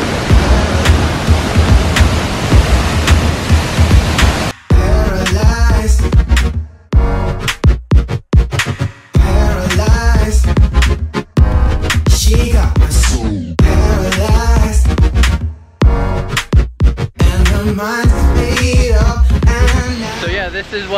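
A steady, rushing roar of a 75-meter waterfall in La Fortuna, Costa Rica fills the first few seconds, then continues in choppy bursts mixed with other sounds.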